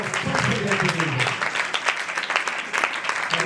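Applause from a church audience at a Christian worship night in Pakistan, a steady patter of clapping running throughout with a voice talking over it.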